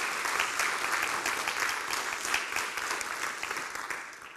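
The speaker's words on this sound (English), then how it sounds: "can we just have a little round of applause for our organizers, sponsors, and especially the wonderful volunteers" An opening-remarks audience at a university event claps for the organizers, sponsors and volunteers, a full, loud round of applause that gradually fades.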